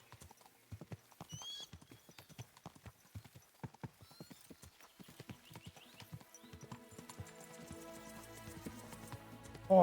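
Horse hooves clip-clop at a steady trot in Kingdom Come: Deliverance II, a long run of sharp rhythmic knocks, fairly close, with a brief whinny early on and busier layered game sound building toward the end.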